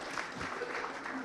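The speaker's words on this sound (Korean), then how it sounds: "박수 한번 주시면" Attendees at a political party training lecture for local officials give a brief round of applause, a short burst of clapping with a faint voice underneath.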